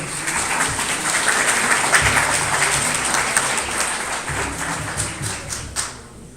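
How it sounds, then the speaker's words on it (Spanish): Steady applause from an audience welcoming a speaker at a medicinal cannabis workshop, dense and sustained for the whole stretch, fading slightly near the end. "por favor, recibamos con un gran aplauso a Jimena."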